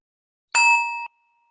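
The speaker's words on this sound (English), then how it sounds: "Listen to the sound of the bell." A single bright mindfulness bell struck once, ringing clearly with a sustained metallic tone that fades out in the quiet after about half a second.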